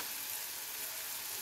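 Onions sizzle lightly in a pan of hot oil for a Bengali fish curry, giving a steady, even crackling hiss with no talking.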